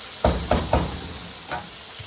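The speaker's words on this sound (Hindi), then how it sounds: "यहाँ पर कढ़ाई हमारी देखिए कुक हो रही है, साथ ही साथ इसमें मैं चम्मच भी चला रही हूँ" A spoon clacks against a wok of cooking chicken karahi, three quick knocks in a row, a softer one after a pause, and a faint final tap over a low steady sizzle, with no voices.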